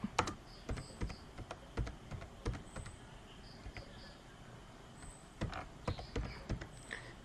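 Keys clack on a computer keyboard in short irregular bursts, close and fairly quiet, with brief pauses between runs of keystrokes and no voices.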